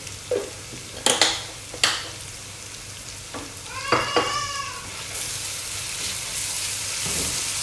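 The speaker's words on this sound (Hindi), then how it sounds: "तो हल्का सा फ्राई करूँगी, जैसे ये फ्राई हो जाएगा मैं इसके अंदर राइस डाल दूँगी।" Ginger and garlic fry in a pan with a soft, steady sizzle, interrupted by several clanking stirs, while a cat meows close by partway through.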